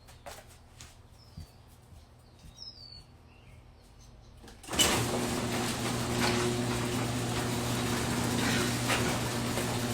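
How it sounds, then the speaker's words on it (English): A garage door rumbles shut at close range, a loud, steady mechanical drone that starts abruptly partway through after quieter outdoor ambience with faint bird chirps. "I'm going to close the garage door."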